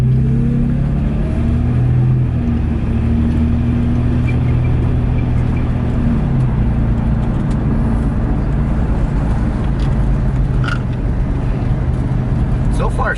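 Steady low engine drone from a lowered Ford Mustang driving slowly over a small driveway bump, with a brief shift in the engine note partway through and talk over the rumble.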